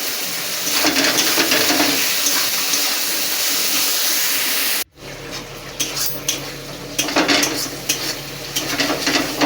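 A spoon stirs spice paste with tomato, salt and turmeric frying loudly in a pan for potato poppy seed and okra, a steady close sizzle with scraping, briefly cut then resuming with clinks, no talking.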